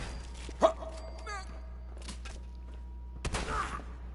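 Dogmeat, the dog companion in the video game Fallout 4, gives a sharp bark early on, with further game noises and brief bursts of sound following over a low steady hum.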